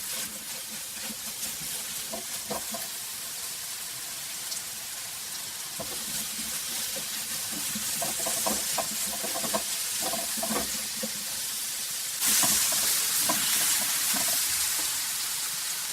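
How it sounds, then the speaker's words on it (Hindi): Potatoes with sugar, crushed red chili and salt sautéing in a pan, a steady crackling sizzle with stirring scrapes throughout, getting brighter and louder near the end, no talk. "अब हम इसको इतना सौते करेंगे कि ये जो चीनी है ना, ये मेल्ट हो जाए"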